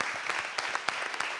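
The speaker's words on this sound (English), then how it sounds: "round of applause for everyone" At a business and nature summit, an audience claps in a brief, dense burst of applause, with a few sharper claps standing out.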